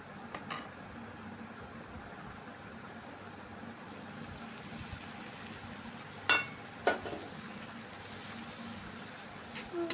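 Spice masala mixed with a coriander-powder paste fries in a pan for pointed gourd and prawn curry, giving a soft, steady sizzle with a few brief sharp clinks.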